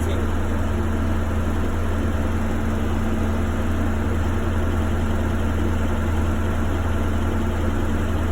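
A school bus diesel engine idles steadily with a low, constant rumble and vibration throughout, no voices present.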